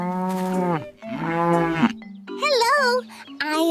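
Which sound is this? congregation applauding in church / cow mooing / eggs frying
cow mooing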